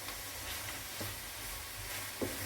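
Walnuts stirred into apple filling in a pan for an apple tart, with a soft continuous sizzle and a few light scraping strokes of the spoon, faint and close.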